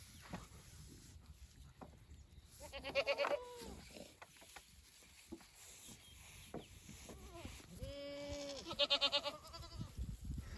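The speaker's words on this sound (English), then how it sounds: "I really do believe most of these goats are already been bred by Clyde here" Goats on a farm let out several loud bleats in two bursts, close by, amid quiet background rustling and knocks.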